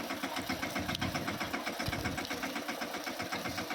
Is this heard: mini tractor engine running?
yes